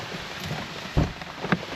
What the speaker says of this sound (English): I'm gonna wait to see if this rain lets up.